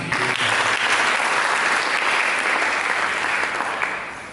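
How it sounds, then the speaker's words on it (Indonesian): Worshippers at a church service break into loud, sustained clapping, a thick wash of many hands that stays even throughout and tapers off near the close. "Berikan tepuk tangan ya."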